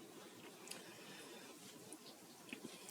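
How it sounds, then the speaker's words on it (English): Soft, close chewing of a juicy mandarin, with small wet squishes and faint crunchy clicks in a quiet room. "There's a sound of me chewing it."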